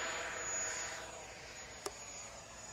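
Freewing Eurofighter Typhoon 90mm RC jet flying overhead, a steady broadband turbine roar that slowly fades as it passes, with one brief sharp click near the end.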